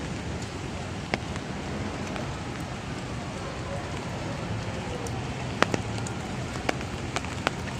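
Steady rain patters on a barge and the workers on it, a dense even hiss with occasional sharper drips and knocks close by.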